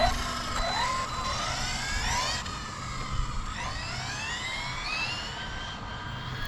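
A small FPV RC car with a DIY carbon fibre chassis whines at high pitch on a speed run, its motor note sweeping up repeatedly as it accelerates, steady and fairly faint throughout.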